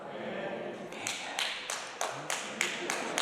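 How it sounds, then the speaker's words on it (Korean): A church congregation claps in a steady, regular rhythm during a Sunday sermon, with sharp claps landing about every half second and a voice talking underneath. "설교하다가 박수 받는 거 처음 같은데요"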